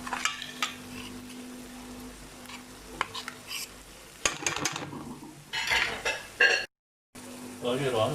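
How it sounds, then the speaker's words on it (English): Masala is stirred in a cooking pot, with a spoon scraping and clinking against the metal over a low sizzle, uneven bursts of stirring and a brief silent gap, and a voice speaking faintly at times. "Let's stir it a bit."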